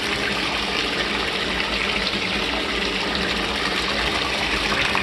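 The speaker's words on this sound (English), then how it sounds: "So while my water is running, when it's half full, that's when I take the bath salts" Water pours steadily from a tap into a filling bathtub, a constant, close, full-bodied rushing gush with no pauses or voices.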